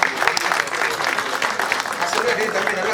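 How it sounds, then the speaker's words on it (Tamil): Audience applause fills a Tamil film audio launch event for Rajaputhiran, a dense, steady wash of clapping from a large crowd lasting about three seconds with no pauses. "அவருக்கு ஒரு பெரிய கைத்தட்டல் கொடுக்கலாம்."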